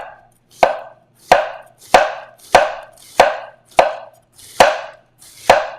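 A knife slices through cabbage on a chopping board in thin slices, eight crisp, evenly spaced cuts at a steady, unhurried rhythm, each a sharp close crunch with no talking.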